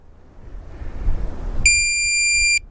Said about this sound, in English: and then it'll beep. Now the ferrous ID is activated.